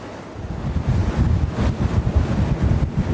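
Hardy 62 motor boat underway heading out of a harbour, with steady loud wind buffeting the microphone over the rushing wash of waves against the hull, continuous throughout with no talk.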